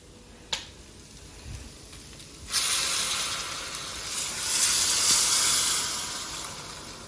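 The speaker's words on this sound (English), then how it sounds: "Next goes in 2 liters of boiling water." After a sharp click, 2 liters of boiling water pour steadily into a gravy pan with a rising hiss and rushing splash that swells and eases over several seconds.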